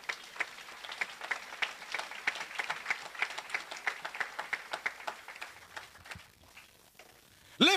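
A church congregation applauds during a French-language thanksgiving service, clapping in a steady rhythmic beat that fades toward the end before a brief louder burst, with faint voices beneath.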